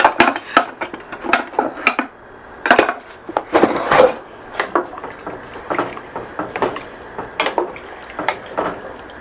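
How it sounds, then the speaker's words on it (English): A spoon stirs chicken chowder broth in a pot, making irregular clinks and knocks against the sides at close range, with no talking. "And give it a little stir."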